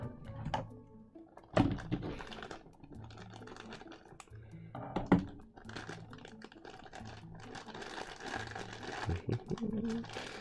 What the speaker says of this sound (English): just in a plastic bag, so let's get him out